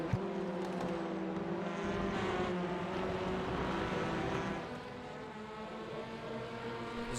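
A Hyundai Elantra N TCR race car engine at Red Bull Ring in the iRacing video game, a steady buzzing drone with shifting tones that eases off partway through, rather faint and distant.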